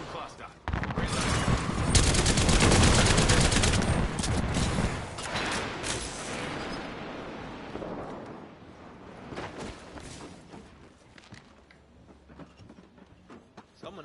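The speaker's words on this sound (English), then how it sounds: "Joker's shooting at me." Gunfire in the Apex Legends battle royale, with dense, loud bursts of automatic fire crackling for several seconds, then thinning into scattered shots and softer game sounds.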